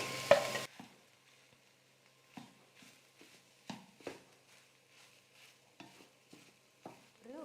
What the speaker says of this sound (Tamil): ஒரு உருளைக்கிழங்கையும் காலிஃப்ளவரோடு சேர்த்து நல்லா 1 நிமிஷத்துக்கு குக் பண்ணிட்டேன். கலந்து கொடுத்துட்டேன்.